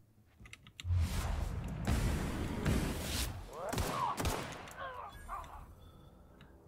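Gunfire in The Outer Worlds video game: dense, loud bursts of shots for several seconds, fading to scattered mechanical sounds, with a voice speaking over the action.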